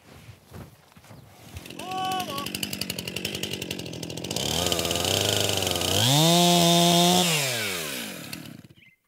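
A chainsaw cuts through the securing strap during a tree felling using the safe felling technique, its engine revving steadily and rising in pitch toward a high whine before dropping off, loud and close, alone without speech.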